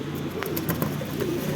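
Pigeons kept for sale in Kolkata coo softly and repeatedly nearby, a steady low burbling over a constant background hum.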